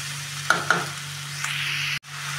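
Sweet pumpkin and slit green chilies sizzle in a pan for a Bengali-style ghonto as a spatula stirs, with two sharp knocks early on over a steady hiss that briefly cuts out near the end.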